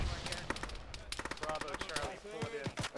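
Rapid machine gun and rifle fire in a military shooter, many sharp overlapping shots in quick bursts, with voices talking over the shooting.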